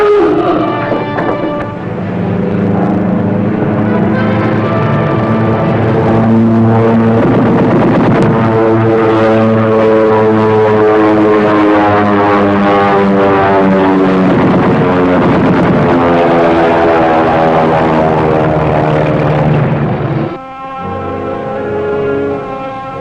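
A friendly propeller aircraft passes over a surfaced submarine at sea, its steady droning roar loud and sustained for about twenty seconds before it drops off sharply near the end.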